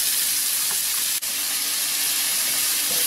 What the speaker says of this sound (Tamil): வெங்காயம் கொஞ்சம் நல்லா வதங்கல வரைக்கும்